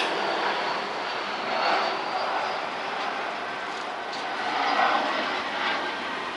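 Airplane passing over downtown San Jose near the airport, a broad steady roar that swells slightly in waves throughout, heard outdoors from some distance.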